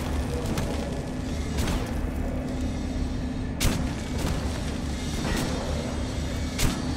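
Weapon fire in the video game Metro Last Light rings out as a series of sharp separate shots, about five or six over several seconds, each a sudden loud crack with a short booming tail over a constant background rumble.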